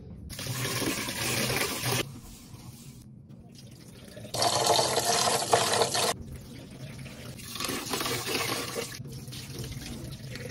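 Water from a tap gushes in bursts, stopping and restarting several times, with quieter swishing of rice being rinsed between the louder streams.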